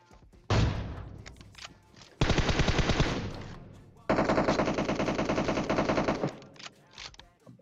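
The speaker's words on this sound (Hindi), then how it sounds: "मुझे यहाँ पे गोलियों की आवाज़ आती है" Bursts of rapid automatic gunfire in PUBG Mobile in three long volleys separated by brief pauses, loud and close, with scattered single shots trailing at the end.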